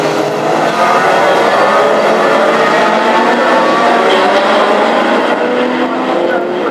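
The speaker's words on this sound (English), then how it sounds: "Roaring that engine up the home straight for the second time of asking" Hot rod race car engines roar continuously and loudly down the home straight at a Hednesford oval race meeting, a dense, steady engine drone with no pauses.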